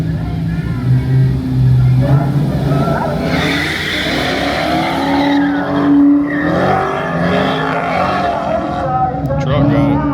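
Cars launch and run down a newly opened drag strip, a Toyota Yaris and a Ford Explorer among them, their engines droning steadily over constant crowd chatter and people talking nearby throughout.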